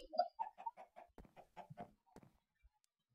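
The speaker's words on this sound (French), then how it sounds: "Il faut toujours qu'on ait une poule dans l'étage." Minecraft chicken clucking in a quick series of short, close, clipped calls, alone over near silence.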